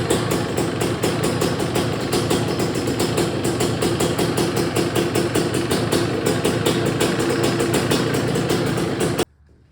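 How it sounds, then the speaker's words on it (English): A 1992 Suzuki LT 250R ATV engine runs loud and steady with a fast, even pulsing beat, close by, then cuts off abruptly near the end. "I'll put a video of us starting it right here."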